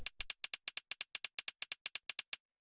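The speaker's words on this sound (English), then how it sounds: "After that, we have the tambourine," Tambourine sample for synth-driven tech house, playing a steady swung sixteenth-note pattern of bright, crisp jingle hits, about eighteen evenly spaced strikes, close and alone.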